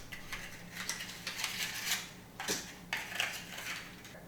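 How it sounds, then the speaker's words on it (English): Paper muffin cups being fitted into metal muffin pans for Funfetti cupcakes, giving a string of light crinkly paper rustles and soft taps against the tin, fairly close and quiet, with no talking. "Now we're gonna line our muffin pans with muffin cups."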